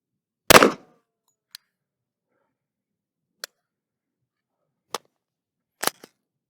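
An air rifle, the Kraken, fires a single sharp, loud crack, then several much fainter isolated snaps and clicks follow at irregular intervals in near silence.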